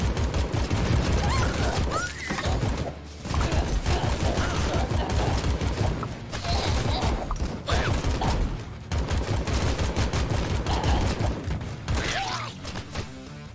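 Automatic weapon fire in AK-xolotl, long dense bursts of rapid shots broken by short pauses, loud and busy with game effects and no talk over it.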